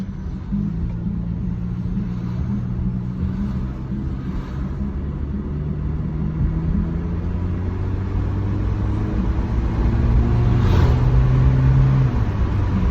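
A Honda car on a test drive, with a worrying gear-shifting issue, gives off a loud steady engine rumble whose pitch climbs and drops as it changes gears, heard from inside the car.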